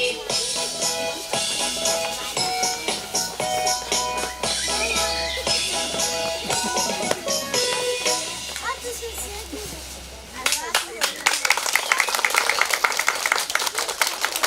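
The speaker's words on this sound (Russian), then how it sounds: "вновь мы ложками играем" Kindergarten children play spoons as percussion, a quick rattle of clicking beats under singing and music that grows into sharp, fast tapping toward the end.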